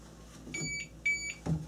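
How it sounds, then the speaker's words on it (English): Two short electronic beeps from a laser level being picked up and moved, high and tonal, fairly close, followed by a knock of handling noise. "So you heard the beeping there, that's because of me picking up the tool and moving it."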